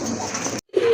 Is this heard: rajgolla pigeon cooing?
yes